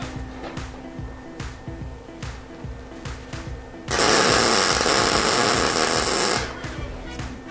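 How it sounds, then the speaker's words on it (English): Tack welds go onto a water heater being turned into a barbecue, a loud steady buzzing crackle that runs for about two and a half seconds, with quieter clicks and shop noise before and after. "Let me get my welder turned on. Okay. 2 tack welds."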